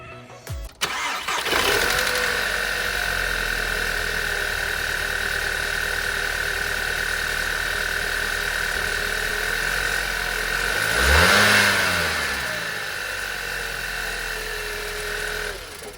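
A Skoda engine fitted with a pod filter intake cranks and catches, then settles into a steady, close idle with a faint high whine. It gives one short blip of revs partway through before returning to idle, with no voices.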